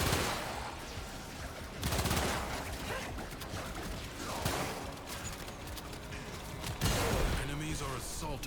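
Rapid bursts of video game gunfire crackle in quick, repeated volleys, with loud clustered shots separated by short pauses, under a streamer's talk.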